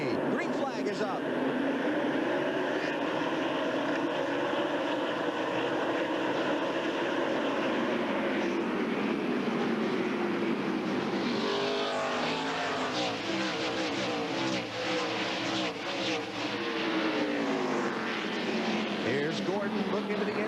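NASCAR race cars roar off the start at Martinsville's half-mile oval in the 2001 Old Dominion 500, a dense sustained engine wall that builds as the pack passes, with broadcast commentary running over it throughout.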